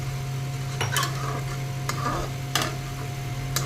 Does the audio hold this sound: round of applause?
no